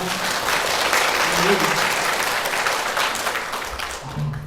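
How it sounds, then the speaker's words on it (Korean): Sustained applause from a congregation filling the room during a church service, steady and loud from start to finish before tapering slightly at the end. "하나님께 영광의 박수 올려드립니다."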